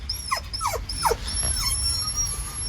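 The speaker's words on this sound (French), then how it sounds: "Et le chien qui aboie depuis 3 heures." A dog gives three short, high yelping cries in quick succession, then a softer trailing whine, while a thin, steady high whistle runs in the background.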